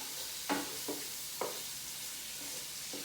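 Quiet, steady sizzle of chicken frying in a pan, with a few soft clinks and scrapes of stirring.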